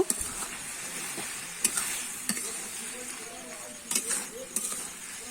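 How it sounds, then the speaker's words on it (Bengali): A watermelon dish is stirred in a hot pan, with a steady soft sizzle and occasional scraping clicks of the spoon under a person talking. "দেখো ঢাকা দেওয়ার জন্য কতটা জল বেরিয়েছে আমি এবার নেড়ে নেব"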